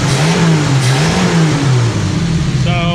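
A Dodge Dart engine runs under its own power while fed from a rear fuel cell. It makes a loud, close, steady idle with a slightly wavering pitch and no talking.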